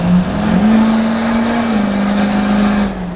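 Duramax diesel engine in a Humvee revving off-road, a loud sustained drone that climbs in pitch, holds, then settles slightly, heard up close with no talk.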